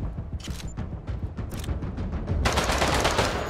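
Bursts of automatic gunfire in the tactical video game Corruption 2029, rapid volleys in short clusters that swell into one dense, loud barrage near the end.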